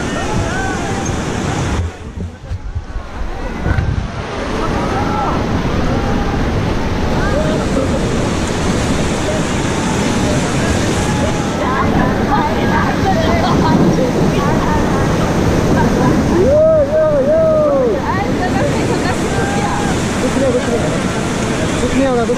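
Rapids on the Beas River near Manali splash and rush loudly around a raft, with wind buffeting the microphone and people talking over the constant churning water.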